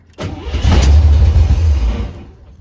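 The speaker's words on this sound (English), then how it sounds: "This is the first time trying to actually start the engine" A Corvette C3 engine, unstarted for two years, cranks and catches, then runs with a loud, low rumble for a couple of seconds before cutting off; close by, no voices.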